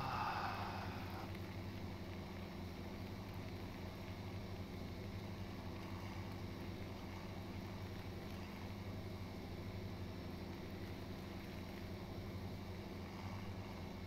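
A steady, low vehicle engine drone plays throughout in Farming Simulator 19, apparently a tractor working a farm field, quiet and constant with no speech.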